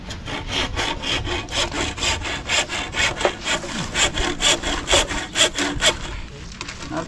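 A hand saw cutting wood for a gate during construction of a hut, with steady rhythmic back-and-forth rasping strokes, close and loud, that slow and fade near the end.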